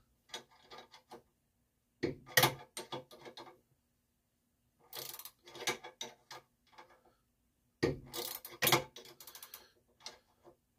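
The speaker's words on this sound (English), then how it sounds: "So, see what we can tighten up here." A ratchet tightens front suspension bolts in quick bursts of clicking strokes separated by pauses, close and clear with no talk.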